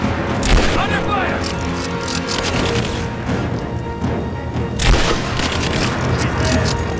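Heavy gunfire and booming blasts in the video game Rise of the Tomb Raider, with loud bursts of shots and explosions throughout and shouted voices mixed in over the fighting.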